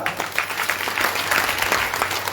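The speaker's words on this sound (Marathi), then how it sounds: "एकदा जोरदार टाळ्या वाजवा" A crowd claps steadily, a dense patter of many hands at moderate volume, continuing throughout without letting up.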